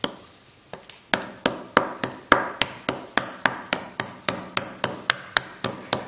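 A hammer strikes the back of a hatchet to split kindling, giving a run of about sixteen sharp, ringing metallic blows at a steady, even pace, close and loud with no talk.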